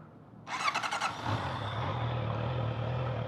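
A 2025 Honda CBR650R motorcycle with stock exhaust starts with a brief starter whir, then catches into a steady idle, a close low burble that holds even to the end.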